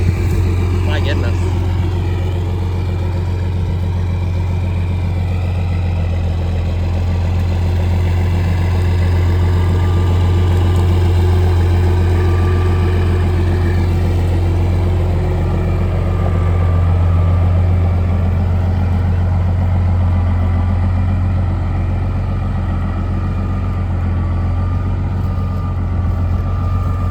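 An old, freshly rebuilt Caterpillar diesel idles in a Peterbilt 589 truck, a deep, even, throbbing rumble that holds steady and loud for the whole stretch while someone talks over it.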